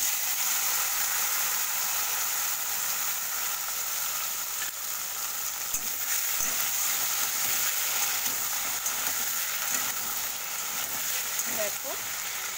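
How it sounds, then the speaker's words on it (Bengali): Small chopped pieces of taro fry in hot oil, a steady, dense sizzle and crackle running throughout, with a few faint stirring scrapes near the end. "যে কচুটাকে আমি কেটে কেটে রেখেছিলাম ছোট ছোট করে, তো সেগুলো দিয়ে আমি আগে ফ্রাই করে নেব।"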